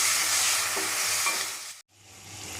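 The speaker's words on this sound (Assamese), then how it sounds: "ভালদৰে মছলাখিনি ভাজিবলৈ দিম" Spice masala for a soya chunk curry fries in a hot pan, a dense, close, continuous sizzle that cuts out abruptly near the end, then resumes.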